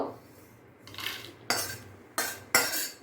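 Roasted whole spices for mutton biryani are scraped from a pan onto a plate with a metal utensil: three sharp, close scraping bursts over a quiet background, with a faint sizzle.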